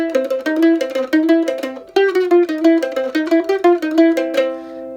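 Mandolin picks a passage in G: quick, bright plucked notes in a steady bouncing rhythm with slides between positions, played close and clear with no talking, the last notes ringing out.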